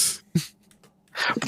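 A single sharp sneeze bursts out near the mic, then a brief quiet stretch before louder noisy sound returns at the end.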